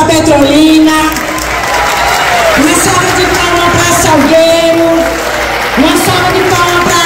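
Applause from a crowd of teachers at an outdoor union street rally in Recife, loud continuous clapping with voices and a sung or shouted tone rising and falling over it through the PA.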